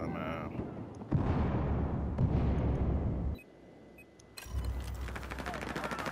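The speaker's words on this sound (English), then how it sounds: "It's only so much to take of a shotgun." Shotgun and other gunfire crack through a Battlefield 4 multiplayer match, several heavy blasts and bursts with a short lull before the shooting picks up again, loud and close.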